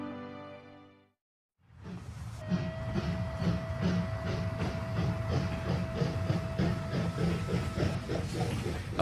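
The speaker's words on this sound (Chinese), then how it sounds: "蒸汽机车独有的气雾划破清晨的平静。" A 96-year-old steam locomotive runs across the Patagonian plateau near Esquel, its rhythmic clanking and clickety-clack rolling steadily under a constant hiss, with a sustained whistle-like tone, loud and close throughout.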